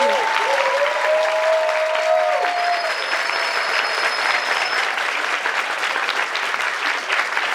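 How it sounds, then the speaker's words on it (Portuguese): Steady audience applause at a book relaunch event on the student movement, broad and sustained for several seconds, with a couple of brief tonal whistles or voices rising above it early on. "Uma salva de palmas de novo"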